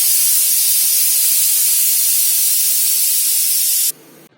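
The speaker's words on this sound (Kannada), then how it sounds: "ಕುಕ್ಕರ್ ಹೆಂಗೆ ಕೂಗುತ್ತೆ?" A kitchen pressure cooker vents steam in one loud, steady hiss lasting about four seconds before it cuts off abruptly into near quiet.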